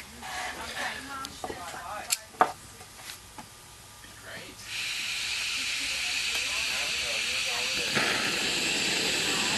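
A Jetboil Sumo camping stove with a missing piezo igniter is lit: a few sharp clicks and knocks, then the burner catches and settles into a steady, loud hissing roar, with people talking over it.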